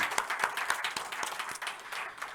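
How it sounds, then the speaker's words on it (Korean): A church congregation claps together during a Sunday morning worship service, a dense, steady round of hand claps with sharp individual strikes standing out, lasting a couple of seconds with no talk over it. "우리 하나님께 영광의 박수 올립시다."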